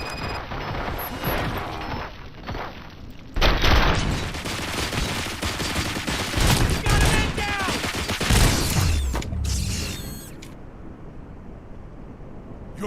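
Gunfire in the Robocop Rogue City video game: dense bursts of rapid shots and heavy booming impacts with crashing debris, loud and sustained for several seconds before cutting to a quieter tail, with faint voices in places.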